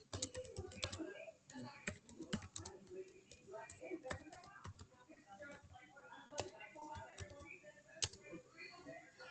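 Fast typing on a computer keyboard during an online class, with dense irregular key clicks and occasional louder strikes, close and steady throughout; faint background voice activity mixes in under the keys.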